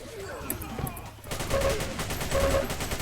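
A Xonotic deathmatch game fills with dense, rapid gunfire: overlapping bursts and repeated shots roll on continuously, growing heavier in the second half.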